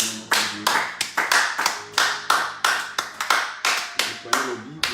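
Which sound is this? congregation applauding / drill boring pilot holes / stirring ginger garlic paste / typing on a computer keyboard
congregation applauding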